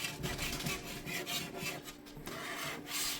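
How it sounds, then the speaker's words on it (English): A spatula rubs and scrapes along the bottom of a 10-inch Parini cast iron pan during cleanup, a close, continuous rasping grind with uneven strokes and no talking. "you rub your spatula all along the bottom, and everything that's on there that's stuck will come right off."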